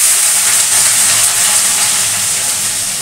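Panch phoron spices and chopped vegetables go into hot oil, giving a loud, continuous bright sizzle. The steady hiss fills the whole moment and fades slightly toward the end, with no voices.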